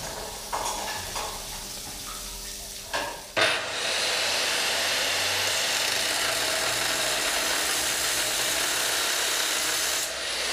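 A power saw cuts through material in a pump room during demolition; a few short knocks and handling sounds come first, then a loud, sustained grinding whir continues to the end.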